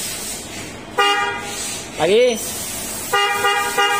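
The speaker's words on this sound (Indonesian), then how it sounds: "Nah ini klakson awalnya itu suaranya dia bunyinya cering" The stock horn of a car is sounded in short honks, loud and close: a buzzing blast, a brief warbling toot, then two more blasts, with a voice speaking briefly between them.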